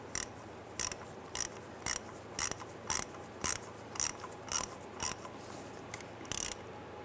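A ratchet snugs the center 7mm bolt on the transmission conductor plate of a 2005-2010 Chrysler 300, making short bursts of crisp clicking at a steady, evenly spaced rhythm, near and clear, with no talking.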